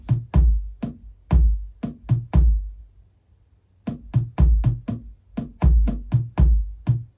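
A drum machine beat with punchy kick and snare hits in a steady pattern, close and dry, playing one short phrase, stopping for about a second, then starting again.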